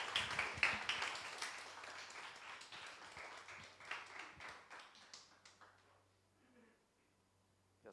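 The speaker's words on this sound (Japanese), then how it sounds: "じゃあみんな拍手でもしましょうか。" A worship service audience claps for several seconds, fairly dense but quiet and somewhat distant. The clapping thins out and fades toward silence, with no speech over it.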